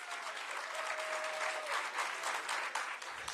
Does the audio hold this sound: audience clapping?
yes